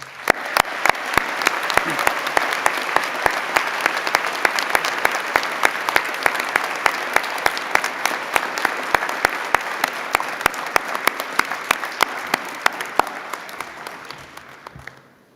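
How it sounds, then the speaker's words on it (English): Graduation ceremony audience applauding at length, dense sustained clapping from a large crowd that holds steady and slowly tapers off near the end, with no speech over it. "Let us give them a heartfelt round of applause."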